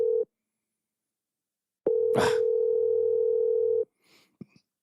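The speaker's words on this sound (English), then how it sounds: "Ringing over and over." A steady electronic phone ringtone sounds briefly, stops, then returns for a longer stretch before cutting off unanswered, with a faint click or rustle after.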